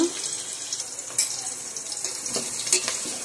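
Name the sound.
onion being sautéed in a pan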